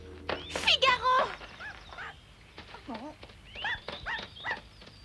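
Short, sharp barks from a dog in an animated series, several quick yelps in a row, with voices speaking around them.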